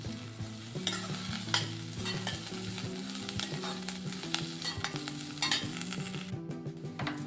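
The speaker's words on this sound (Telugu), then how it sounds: "ఇప్పుడు మనం ఈ పోపు దీంట్లో బ్యాటర్లో వేసుకుందామండి" Hot oil tempering for instant bun dosa batter sizzles steadily in a small pan for about seven seconds, with scattered crackles and spoon scrapes over a faint tonal background.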